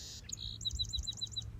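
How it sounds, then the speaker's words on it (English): A loud bird call within a song: a short whistled note, then a rapid run of about eight sharp, evenly spaced chirps, bright and up front in the mix. "it's a loud bird"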